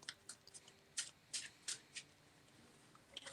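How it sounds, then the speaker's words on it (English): A deck of cards being shuffled at a Commander Magic: The Gathering table: several quick riffling bursts in an irregular rhythm, close and fairly faint, with a louder clattering finish and no talk. "So after I'm done shuffling"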